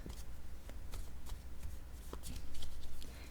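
A deck of playing cards is shuffled by hand, close and quiet, with repeated riffling bursts and soft taps in an uneven rhythm.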